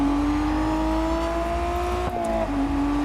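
A supercharged car in the Test Drive Unlimited Solar Crown racing game, its steady high whine rising gradually over a constant engine drone, briefly dipping near the end before settling back, loud and close with no talk.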